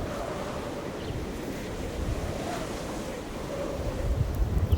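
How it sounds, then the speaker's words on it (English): A Canadian blizzard drives steady wind across a snowy farmyard during lambing season, a low rough roar buffeting the microphone at moderate volume, with a few louder gusts near the end and no talk. "It's windy, it's cold, and there's a lot of snow."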